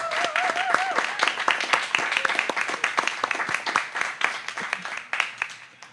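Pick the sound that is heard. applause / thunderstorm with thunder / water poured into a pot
applause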